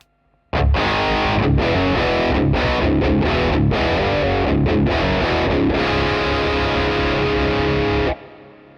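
Loud, heavily distorted Stratocaster electric guitar through an overdrive pedal, playing chords and riffs with a crunchy overdriven tone, steady for about eight seconds before cutting off.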